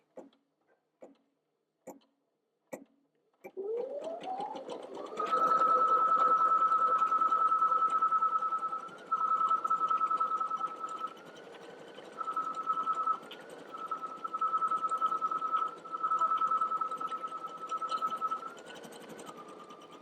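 Embroidery machine stitching steadily: a few faint taps, then a rising whir settling into a loud, fast, even hum that pauses briefly and resumes several times as the needle runs.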